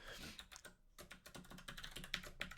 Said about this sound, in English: So we'll just type in our password in here.